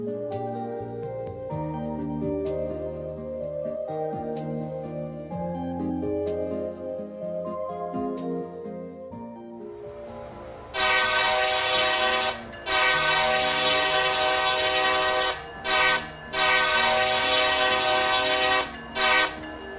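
Freight locomotives, including an Illinois Central GP38-2 in Canadian National paint, roll past with rumbling, clanking cars, then a loud, close train horn sounds in long repeated blasts.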